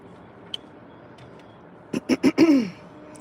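A person clears their throat in a quick series of four rough, guttural bursts, close and fairly loud, after a brief faint click.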